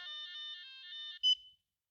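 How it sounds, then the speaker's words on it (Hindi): A mobile phone plays a bright electronic ringtone melody close up, a run of repeated tonal phrases that ends in a short sharper beep, then silence. "तेरा फोन है यार"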